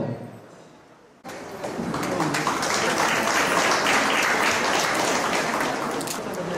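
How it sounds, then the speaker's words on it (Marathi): Loud, sustained applause from an audience at a Mumbai arts academy award and felicitation ceremony, marking a poetry collection's release; it bursts in suddenly after a quiet moment and continues dense and steady to the end. "जोरदार टाळ्या होता."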